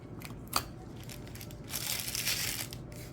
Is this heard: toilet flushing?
no